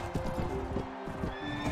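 A horse neighs in the video game Mount & Blade Warband, a shrill whinny under faint clip-clop hoofbeats and game noise.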